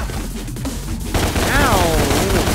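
Gunshots in the action game Devil May Cry, a burst of rapid firing under a busy game mix, with a brief voice or effect sweeping through near the end.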